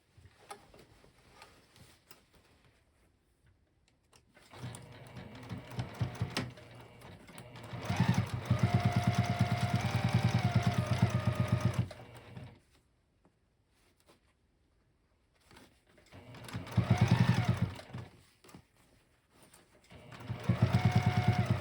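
A sewing machine with white thread closes a bag opening with a narrow seam, whirring in several bursts of varying length separated by quiet pauses, close and steady.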